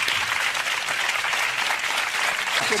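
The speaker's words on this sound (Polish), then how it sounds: "wielkie brawa dla zwycięzcy" A studio audience at a TV music quiz show applauds the winner with steady, dense clapping that stays loud and even from start to finish, with no talk over it.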